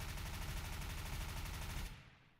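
Sustained full-auto burst from an MP7 submachine gun with an armor core skin in a first-person shooter game, a dense rapid rattle of shots lasting about two seconds, then cutting off into a short quiet tail with a faint click.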